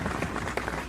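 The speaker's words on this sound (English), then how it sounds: "How many people are applauding?" Audience applause at a live music show, a dense wash of many hands clapping close together in a steady patter with scattered sharper claps, loud and without talk.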